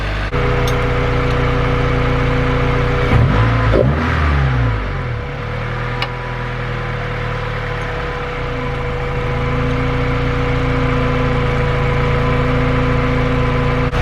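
A car engine in a Honda Del Sol or Mazdaspeed3 idles steadily and loud, then revs up sharply around the middle as the throttle cable is adjusted, and settles back to a smooth, even idle with no talk.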